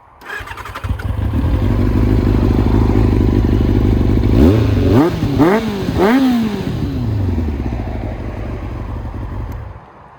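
A Kawasaki ZX-6R Ninja sport motorcycle with an aftermarket exhaust starts up and idles with a deep, steady rumble, then revs sharply three times in quick succession before settling back to idle.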